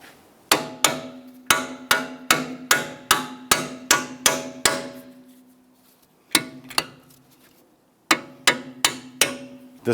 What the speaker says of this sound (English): I'll get the other bolt in and we'll tap those in.